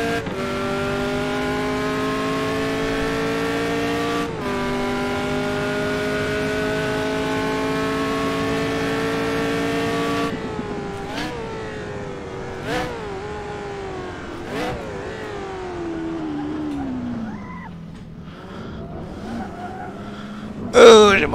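A prototype race car in the Assetto Corsa racing game, a loud continuous engine whine rising and falling through gear shifts, then easing down and revving again near the end.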